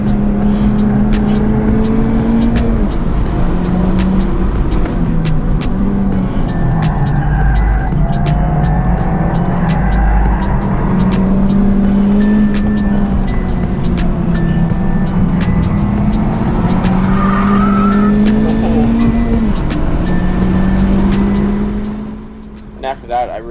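A race car engine at Stratotech circuit, droning steadily through a hot lap with pitch rising and dipping through gear shifts, loud and close, ending with a sharp cut.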